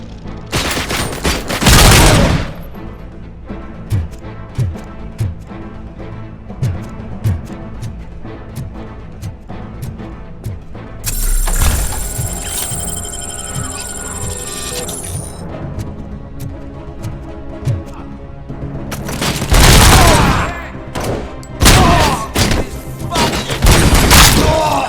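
Gunfire in the Robocop Rogue City shooter game, loud bursts of shots and heavy booms separated by quieter stretches of rapid ticking and a sustained crackling fire, punchy and close throughout.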